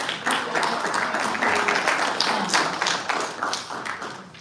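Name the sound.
applause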